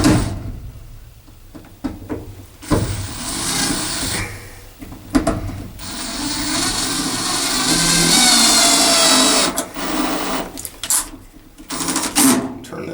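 A power drill with its clutch set low drives screws while a 100-watt 12-volt solar panel kit is being mounted, giving several loud whirring bursts of varying length separated by short pauses, close by.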